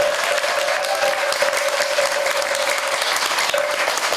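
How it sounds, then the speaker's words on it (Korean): Steady, dense applause from a crowd of worshippers at a Buddhist temple consecration ceremony at Daejangeomsa in Changwon, a continuous wash of clapping with a faint sustained tone running beneath it. "박수 한번 부탁드리겠습니다"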